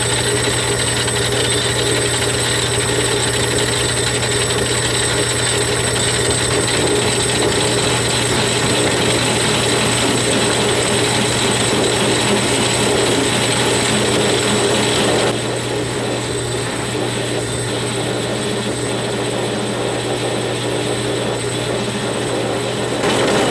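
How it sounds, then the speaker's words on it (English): A metal part turning on a lathe for a chain sprocket fit, a loud continuous mechanical drone with steady hum and whirring that drops slightly in level near the end. "I've got to take this down just a little bit more on the lathe."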